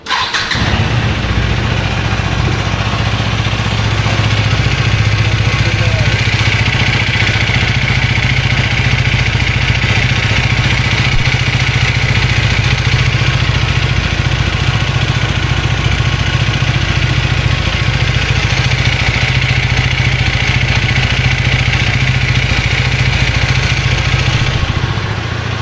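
A KTM Duke 250 motorcycle starts up and settles into a loud, close, steady idle, its even mid-range engine drone holding for the whole stretch with no voices.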